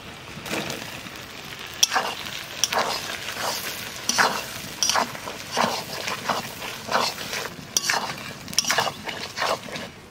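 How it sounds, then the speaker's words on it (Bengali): Eggplant goes into a pan of frying fish roe and oil, giving a steady close sizzle broken by repeated scraping and clattering stirring strokes at an irregular rhythm, with no talking. "মাছের ডিম আর তেল ভালো করে ভাজে নিলাম, এইবার বাগুন দিয়ে দেবো।"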